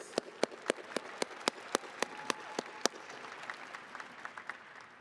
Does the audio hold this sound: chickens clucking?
no